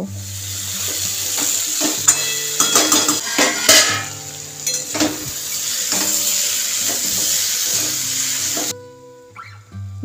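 Taro, potato and fried prawns are stir-fried in a spice paste in a hot pan, giving a steady loud sizzle broken by scraping stirs and clinks of the spatula against the pot, cutting off abruptly near the end.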